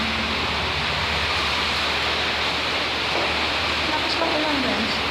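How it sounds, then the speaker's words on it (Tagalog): Heavy rain pours steadily outside a house with a leaking roof dripping down to a stairway, a constant loud hiss with no breaks, filling the whole stretch. "Lakas lang ulan guys."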